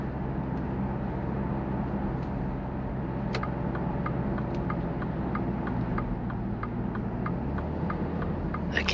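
Steady low engine drone of a Mini Countryman S ALL4 with a 2.0-litre turbo engine while driving, continuous road and drivetrain hum with faint ticking clicks over it, no voices.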